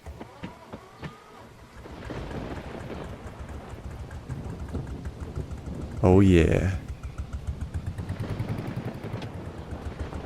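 A small tractor engine in Farming Simulator 25 cranks and settles into a rough, pulsing idle, with a loud burst a few seconds in. A voice speaks briefly before it.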